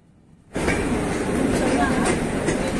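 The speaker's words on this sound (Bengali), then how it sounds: "আমাদের ট্রেন চলেছে জামশেদপুর বা টাটানগরের ওপর দিয়ে।" Gitanjali Express running on rails near Tatanagar, a loud roar that starts abruptly and stays steady with rhythmic clattering of wheels.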